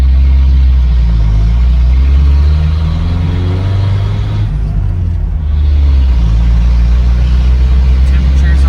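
Car engine with no hood, revved hard while climbing toward third gear: a loud, sustained close-up rumble rising and falling in pitch through gear changes, with a brief dip midway before the roar resumes.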